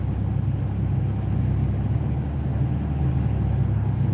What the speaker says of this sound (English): This Ford Flex is trying to accelerate.